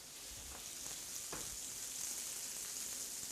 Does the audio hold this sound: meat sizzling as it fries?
yes